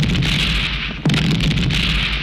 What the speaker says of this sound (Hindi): धमाका सुना गौड़ा